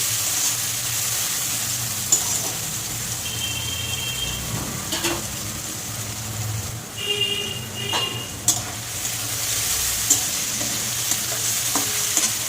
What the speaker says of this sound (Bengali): আগে আমি উচ্ছেটা একটু ভালো করে ভেজে নিই